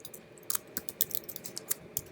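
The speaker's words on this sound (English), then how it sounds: "here I'm going to type" Short run of keyboard typing, quiet and close, with irregular individual keystroke clicks spread across about two seconds and no voices.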